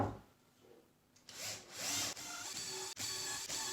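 A drill bores deeper into pre-drilled holes in a plywood drawer case, starting after a quiet moment and then grinding and whirring steadily with brief pauses and rising and falling pitch.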